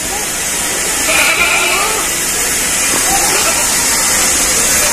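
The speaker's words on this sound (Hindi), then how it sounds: "दोस्तों काफी एग्रेसिव बकरा ये माशाल्लाह।" An aggressive billy goat bleats at close range amid loud, steady background hiss and noise, with people talking over it.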